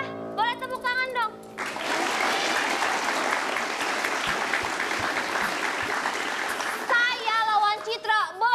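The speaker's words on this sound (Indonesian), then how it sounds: "Boleh tepuk tangan dong." Studio audience on an Indonesian TV talk show breaks into loud, sustained applause lasting several seconds, with people talking just before it and again as it dies down.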